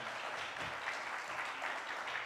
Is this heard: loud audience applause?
yes